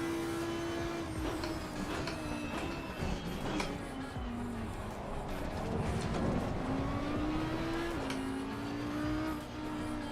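A Ferrari race car in a racing video game passes by with a sustained engine whine that rises and falls in pitch, heard against the player's own car engine and occasional tire noise, fairly steady and without talk.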